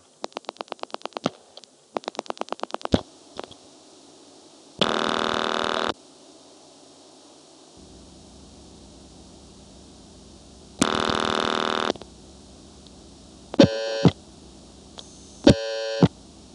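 Old step-by-step telephone exchange switches in Marshfield, Vermont, in 1975 click and clatter in quick rapid bursts as a number is dialed, with short buzzing tone bursts and pauses of near silence between.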